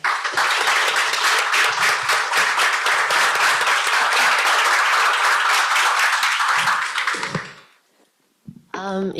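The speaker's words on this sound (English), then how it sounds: "another big round of applause for both of our panels" An audience at a panel event applauds loudly with dense, sustained clapping that fades out near the end, followed by a brief voice.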